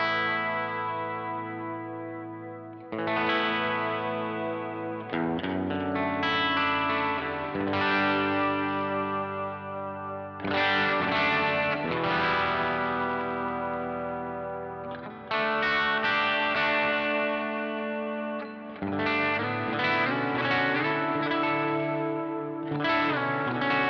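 Electric guitar through an HX Stomp pedalboard with Kali 76 compressor, KTR overdrive, AC30 amp model, Cosmos delay and hall reverb, strummed chords in repeated phrases with a slightly dirty tone and echoing, chorus-like tails.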